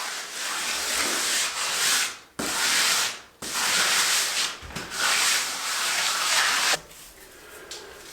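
A trowel presses and levels lime float-coat mortar onto a brick wall, giving a continuous loud scraping, rubbing sound in long sweeps with a few brief pauses between strokes, close by and alone.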